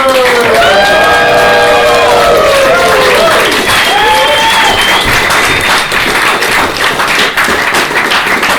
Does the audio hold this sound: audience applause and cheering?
yes